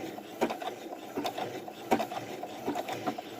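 A sewing machine fitted with an overcast foot runs a zigzag stitch along a fabric fold, giving faint, rapid mechanical ticking with a few sharper clicks, quiet and steady throughout.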